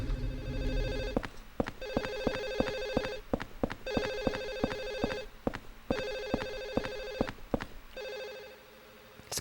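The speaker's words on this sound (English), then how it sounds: "It just won't stop ringing. It's a phantom ringing phone." A phantom telephone in the Silent Hill 4 apartment rings in repeated electronic bursts, each followed by a short pause, with sharp clicks between bursts; the ringing is loud and close and plays alone.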